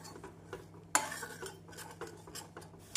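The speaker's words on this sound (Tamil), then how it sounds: "முட்டை சாஃப்டாக வெந்து வரும் வரை கிளறி வேறு பிளேட்டிற்கு மாற்றிவிடலாம்" Eggs stirred in a pan for egg fried rice, a spatula scraping and clinking against the metal in scattered strokes with one sharper knock, moderately close over a low steady hum.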